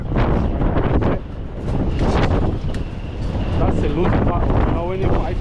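Strong wind gusts roar and buffet the microphone on the Blackpool promenade, loud and continuous, with people talking under the noise.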